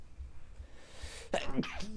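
A person sneezes once, sharp and close, after a moment of quiet room tone, with a brief breathy trail as it fades.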